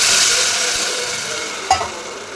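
Oil crackles and hisses steadily in a tempering, then tamarind water is poured into the hot pan, bringing a brief louder sizzling burst that settles back into frying.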